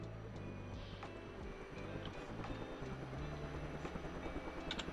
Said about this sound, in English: We have to turn the helicopter on.